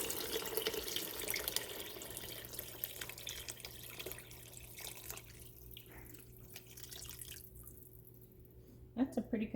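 About a gallon of water pours and splashes steadily into a pot, the rushing sound fading toward the end, followed by a few clinks.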